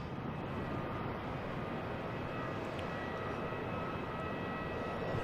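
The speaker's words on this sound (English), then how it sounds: "Coming from Toronto, a Dash 8." A Dash 8 turboprop from Toronto arrives at Boston Logan, giving a steady, moderate engine drone with a thin constant tone above it, brief and unbroken, with no voices.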